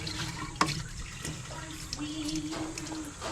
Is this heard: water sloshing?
yes